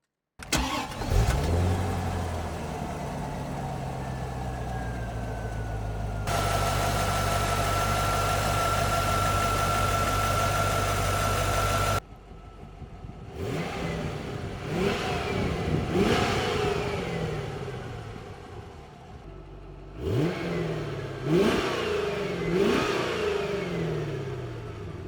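A Grand Sport Corvette with a 6-speed manual cranks and fires up, settles into a loud steady idle, then, after a short pause, is revved in several sharp, swelling bursts that fall back between each blip.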